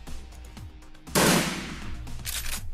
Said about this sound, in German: Einmal die fette Salve wieder.